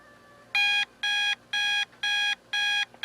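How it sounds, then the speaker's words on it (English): A Cosmo Time Lamp Model 5500A alarm clock rings in five evenly spaced bursts of rapid electronic beeping, steady and moderately loud over a quiet background. "we'll just wait here until the alarm goes off."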